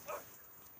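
A man imitates a dog's bark with his voice, a single short yelp-like burst near the start, faint and close, over low room noise while a mobile motocross game plays.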